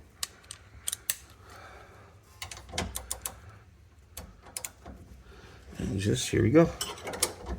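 A 3/4-inch socket ratchet tightens an adjustable rear endlink bolt on a 2000–2020 GM SUV: sparse, close metallic clicks and clanks that build into a busier clatter near the end, with a brief spoken remark.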